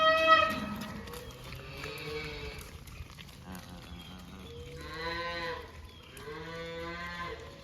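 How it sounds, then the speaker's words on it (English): Young calves on a cattle drive bawl for their mothers, a series of loud, drawn-out moos rising and falling in overlapping calls, with a few near and insistent cries and others further back. "the little ones have lost sight of their mom, and they start bawling"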